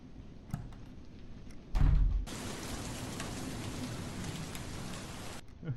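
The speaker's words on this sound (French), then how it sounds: "Je ne comprends pas comment des gens arrivent à dormir avec un bruit continu comme la pluie." Steady rain hisses continuously in a Minecraft short film, loud and unbroken after a brief thump near the start, with no voices over it.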